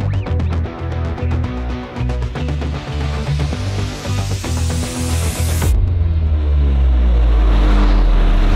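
A Can-Am Ryker three-wheeled motorcycle runs loud and close, its engine revving and accelerating steadily with a rising tone, then shifting to a deeper, lower roar.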